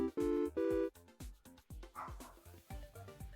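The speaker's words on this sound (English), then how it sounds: "I apologize if you hear barking in the background." A dog barks repeatedly nearby, two long loud barks followed by a rapid series of shorter yips and barks.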